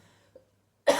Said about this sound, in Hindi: खांसी क्यों हो रही है आज?